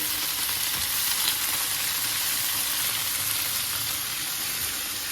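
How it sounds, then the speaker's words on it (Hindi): Okra (bhindi) frying in a pan over low heat, a dense, steady sizzle and crackle that carries on evenly, close up and loud, with no talking. "भिंडी भी अच्छे से फ्राई हो रही है"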